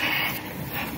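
Welding on a battery box for a green 1113 truck gives off a steady, hissing crackle up close, a continuous buzzing sizzle with slight flickers and no talking.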